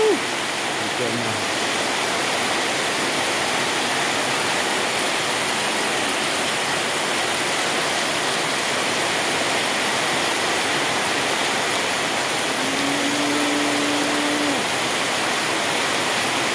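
Heavy rain pours onto a street in Abepura, Jayapura, a steady dense hiss throughout, with a brief faint voice near the start and a low passing tone near the end.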